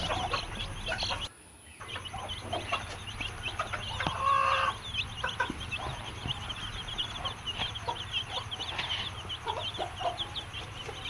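Several black and white chickens cluck and chatter in a steady, busy stream, with a low hum and background noise underneath.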